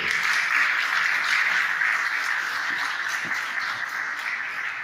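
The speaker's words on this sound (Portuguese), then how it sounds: "Vamos aplaudir a palavra do Senhor." A church congregation applauds during a sermon, with steady, even clapping from many people holding at a constant level throughout, without talk.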